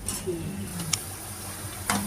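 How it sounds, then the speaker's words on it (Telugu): Pieces of bitter gourd fry in oil in a pan, giving a steady sizzle broken by a few light clicks and scrapes as they are stirred, heard up close with no voices. "కాకరకాయలు గలగలలాడేలాగా ఫ్రై చేయాలి"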